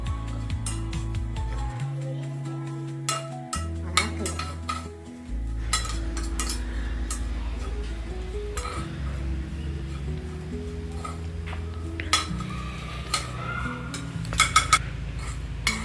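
Five or six garlic cloves and curry leaves roast in a pan for chicken sukka while a metal spoon stirs them. Close clinks and scrapes sound over a steady frying hiss.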